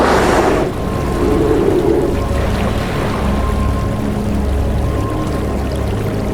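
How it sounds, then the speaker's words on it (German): An orca slaps the water surface, a sharp splash at the start, then a steady wash of churning water and rolling waves. "Eine erhebt sich, schlägt auf die Oberfläche und erzeugt Wellen."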